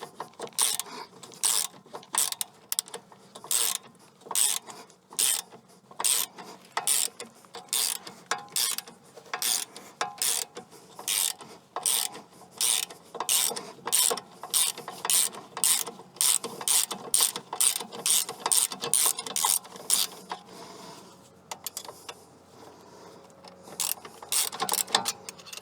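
A ratchet loosens a nut during a full service on a 2.0 TDCi Vauxhall Insignia, giving a long run of sharp, evenly spaced metallic clicks, close and loud, that speed up briefly near the end before a short pause.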